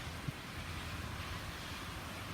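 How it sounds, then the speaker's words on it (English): Strong gusting wind during a thunderstorm with heavy rain, a steady broad roar buffeting the microphone, loud and continuous with no speech. "It's really windy too."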